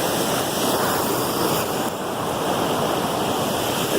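Steady broadband rush of a flowing river at a brookside, continuous and close, with no voices over it.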